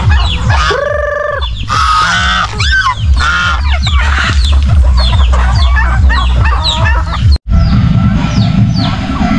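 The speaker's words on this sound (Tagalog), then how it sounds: "may mga manok pa rin dito" Chickens cluck and squawk loudly and close in a farm pen with turkeys, overlapping calls in busy irregular bursts and a brief break near the end.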